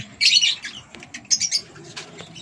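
Lutino Opaline hen, a hand-fed breeder bird with eggs in its first clutch, gives a few short harsh squawks mixed with quick wing flaps, close and fairly loud, with no talking.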